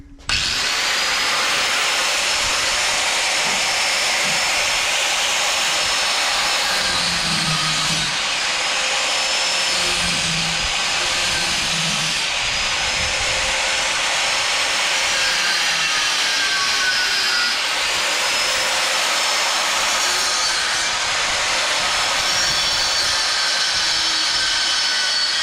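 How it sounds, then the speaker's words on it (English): An electric grinder runs steadily in a workshop while tidying up a tray, a loud, continuous high whine that holds for the whole stretch with slight shifts in pitch as it bears on the metal. "I should probably actually plug the grinder in, hey?"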